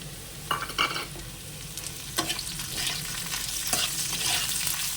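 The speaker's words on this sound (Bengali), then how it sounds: "পেঁয়াজটা পেঁয়াজটাও ভাজা হয়ে গেছে" Onions and potatoes fry in a pan with a continuous close sizzle, broken by a few louder stirring scrapes and spits of oil, and no talk.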